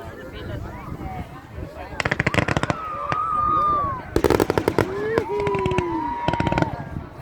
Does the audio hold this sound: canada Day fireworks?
yes